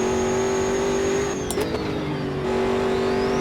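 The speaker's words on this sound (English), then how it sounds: "The car makes some glorious sounds. That boost dump, that atmospheric boost dump." Race car in the Automobilista 2 racing game with a steady engine drone at high revs, a brief atmospheric boost dump whoosh midway, then the engine pulling on again, loud and continuous.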